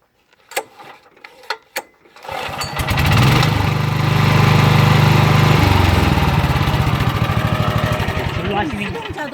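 A walking tractor cultivator engine catches after a few sharp pull-start clacks and then runs steadily with a loud, rapid, chugging drone that holds and slowly eases.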